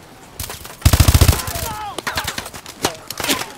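Call of Duty: Advanced Warfare gunfire, a rapid automatic burst followed by scattered shots and combat noise, close and loud, with voices mixed in.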